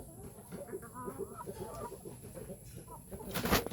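Free-range chickens cluck in a steady, busy chatter throughout, several birds close by, with a brief louder burst of noise near the end.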